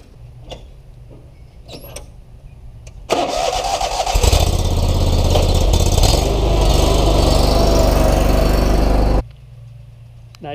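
A Ferris Z3X zero-turn mower's engine cranks and catches after a few quiet seconds, then roars loud and close at a steady running pitch for several seconds before it cuts off sharply.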